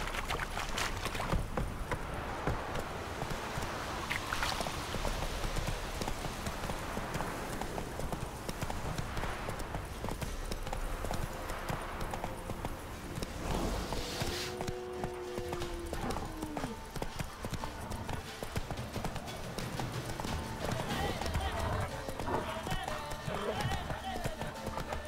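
The horse Roach gallops in The Witcher 3 with steady rapid hoofbeats under a continuous wash of game wind and ambience. Voices speak over parts of it.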